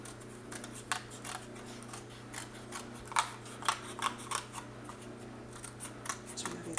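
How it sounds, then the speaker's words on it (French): Scissors snip through scrapbook paper in a quiet room, a series of close, crisp, irregular cuts, with no speech over it. "Je vais couper ici."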